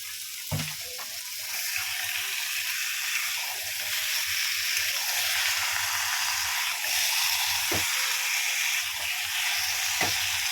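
Chicken meat frying in spiced masala, a steady dense sizzle and hiss close by with occasional scrapes of stirring, continuous and moderately loud, no talk.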